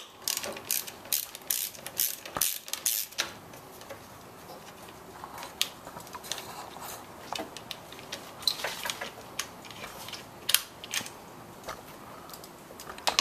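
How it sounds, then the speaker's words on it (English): A 10 mm socket wrench undoes a bolt on the cover of a Subaru engine during a timing belt job, giving rapid repeated ratchet clicks in uneven bursts, close up and fairly loud, with light metallic handling throughout. "take a 10 millimeter socket wrench, undo the bolt at the top,"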